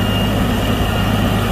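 A New Holland LS180 skid steer drives around, its heavy engine giving a steady, loud, low rumbling drone that holds without a break, with no voices over it.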